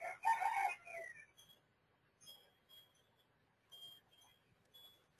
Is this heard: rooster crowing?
yes